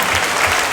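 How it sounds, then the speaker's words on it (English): A brief burst of dense crowd clapping at a school dedication ceremony, as the audience rises in a standing ovation, steady and unbroken. "Now, stand ovation over here."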